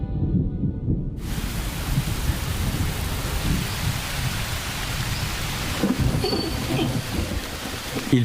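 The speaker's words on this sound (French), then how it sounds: "Il pleut" Steady heavy rain pours down continuously in a forest, a dense hiss with a low rumble underneath and no voices.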